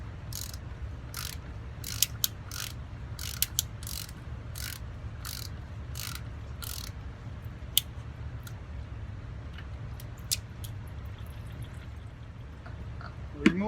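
An oil filter socket wrench loosens the oil filter housing on a Lexus RX350 or ES350, a run of sharp, regular ratcheting clicks over a low background hum, with a few louder clicks later.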